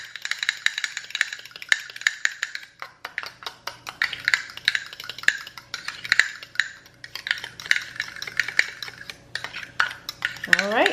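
Honey mixed into a sauce for fried sushi cakes with a utensil, giving rapid repeated scraping and clinking of metal against a bowl, close and fairly loud, with no talk.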